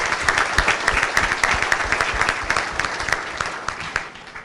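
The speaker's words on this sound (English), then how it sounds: "Please join me one more time in a round of applause for these accomplished students" A board of education meeting audience gives accomplished students and their coaches a loud, sustained round of applause, many hands clapping densely with crisp nearby claps standing out.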